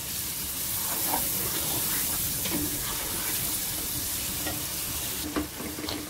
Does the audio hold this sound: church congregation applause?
no